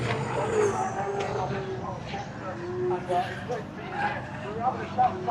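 Little buggies and mini trucks race around a smoky field at a Castle Combe autumn action day, with drift cars circling nearby. Engines whine and rev in overlapping surges at moderate distance while people chat over the steady motor noise.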